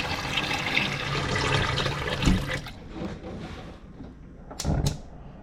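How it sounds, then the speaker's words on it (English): Water runs steadily into a pot for a couple of seconds, then stops, followed by a few clanks and handling noises nearby. "now time to fill this up with water"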